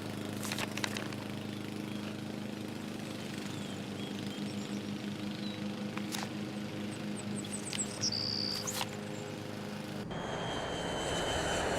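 Steady drone of an airplane engine in the Nancy Drew game The White Wolf of Icicle Creek, a constant low hum with thin high chirps and tones layered on top, shifting to a brighter hiss near the end.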